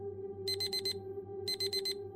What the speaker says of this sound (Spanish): Cuando sonó la alarma